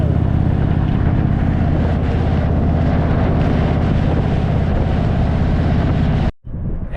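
An Indian motorcycle on an open road in Australia, steady engine drone buried under heavy roaring wind buffeting the microphone, continuous and loud until a brief dropout near the end.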